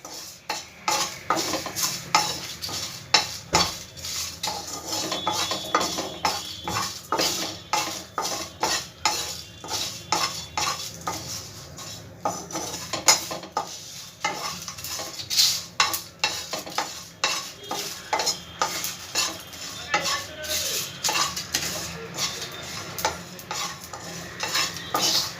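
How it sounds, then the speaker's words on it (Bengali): Cardamom, cloves and cumin dry roast in a dry pan, tossed with a utensil in a long, busy run of rapid scraping and clattering strokes over a faint crackle. "দিয়ে এটাকে একটু আমি শুকনো খোলায় ভেজে নেব।"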